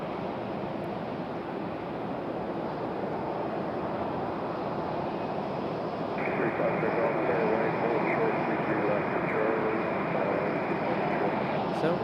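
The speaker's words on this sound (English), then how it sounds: "our Delta A319 on pushback now" A Delta Airbus A319 pushing back at Raleigh-Durham airport, a steady jet engine roar with a whine that rises partway through, mixed with wind noise on the microphone.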